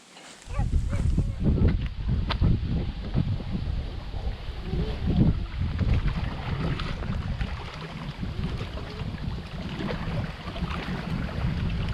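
Outdoor rumble of wind and water around a boat, steady and fairly loud, with faint bumps and movement throughout.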